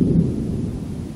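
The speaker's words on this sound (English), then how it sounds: "Thunder." Low, steady rumble of thunder from an outdoor storm during a New Holland 660 baler belt splice repair, rolling continuously and moderately loud with no voices.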